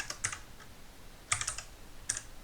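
A few sparse, crisp keystrokes on a computer keyboard while a command is entered into a Python interpreter, in short isolated clusters against a quiet background.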